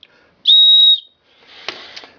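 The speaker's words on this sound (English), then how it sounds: "Your lanyard, which has an emergency whistle on it." A shrill emergency whistle on the lanyard of a Gerber Bear Grylls survival knife gives one short, clear, steady blast up close, followed by faint handling rustles and clicks.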